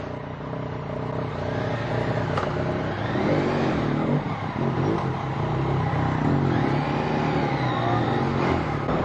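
A Yamaha MT-09 motorcycle engine revs close by, rising and falling in pitch through several sweeping throttle blips over a constant loud drone.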